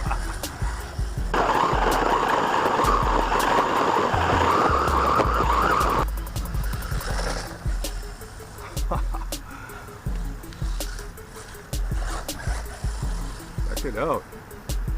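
A Wltoys 124016 brushless RC buggy tears across grass, its motor whining in a loud rush for several seconds before easing to quieter bursts and rattles, with a voice talking at times.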